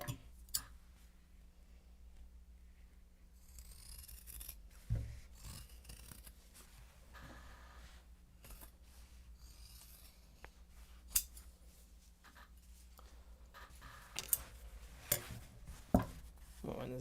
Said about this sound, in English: the scissors like running across the desk and then the like snipping sound